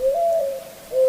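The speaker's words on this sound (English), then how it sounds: "This is the mourning dove, classic backyard bird that I'm sure many of you have seen before." Mourning dove, a light brown, spotted member of the dove family, giving one drawn-out, soft hooting coo that fades and then swells again near the end, heard close and clear over a quiet background.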